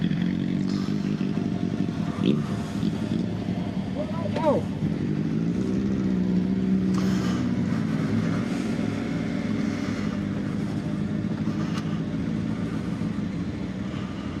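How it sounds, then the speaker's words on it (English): A large group of about thirty motorcycles gathered for a breakfast run, their engines idling and rumbling together in a steady background drone with occasional clatter, while people talk over it. "As you can see, there's quite a lot of bikes."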